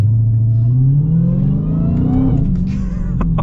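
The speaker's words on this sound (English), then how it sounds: "We'll get a bit of an acceleration, so we'll pop it into the sport mode." A 2023 Dodge Challenger Hellcat in sport mode accelerates on a dirt road, its loud, close engine rising in pitch through a deep, throaty rev before easing near the end.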